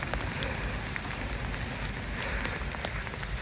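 Rain patters steadily on a leaking camping tent early in the morning, a dense close drumming with scattered louder drops throughout.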